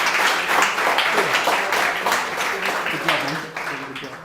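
A lecture-hall audience at an AI winter school applauds in a dense, sustained burst of many hands clapping, loud and close, fading slightly toward the end.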